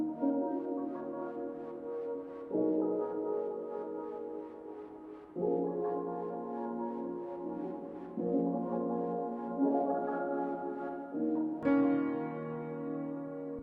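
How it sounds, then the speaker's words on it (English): Piano shaped by EQ filtering, a Portal effect and reverb, giving dark, smeared sustained chords that change every couple of seconds, with a brighter, airier chord near the end; no voices. "So the piano sounds like this"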